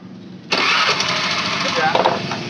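A motorcycle with its battery removed starts abruptly and settles into a steady mid-pitched idle, close and loud.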